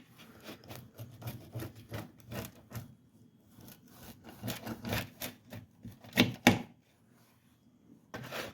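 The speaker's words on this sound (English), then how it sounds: "I just remembered how difficult it is to cut pizza over a camera" A knife sawing through a small frozen pepperoni pizza to cut it into four slices; a series of short rasping scrapes and crunches in an uneven rhythm, close and moderately loud, with a few sharper knocks near the end.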